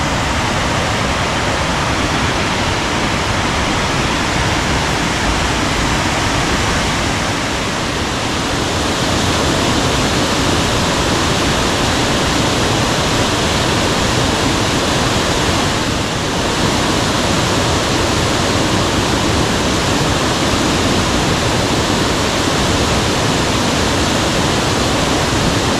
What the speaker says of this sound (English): Now this is waterfall.